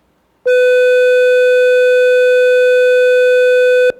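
A loud, steady electronic tone starts abruptly, holds one unchanging pitch for about three and a half seconds, then cuts off.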